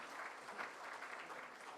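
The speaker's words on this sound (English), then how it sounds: "So I want students to please clap your hands as they come." Students clapping at a PGDM induction ceremony, a steady, even patter of applause from a hall audience, very quiet and distant.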